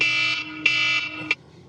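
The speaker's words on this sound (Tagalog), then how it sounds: "Alarm clock ko, papasok na daw ako." An alarm clock rings with a loud, harsh electronic buzzing tone, sounding in sustained bursts with brief gaps before falling silent, close and alone.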